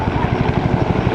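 Army National Guard Black Hawk and Huey helicopters pass at an airshow open house, their loud, close rotor thump pulsing in a fast, steady beat.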